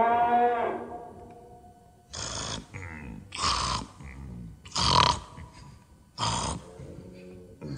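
A cow moos several times in a row, loud and close, in long drawn-out lowing calls with short pauses between them.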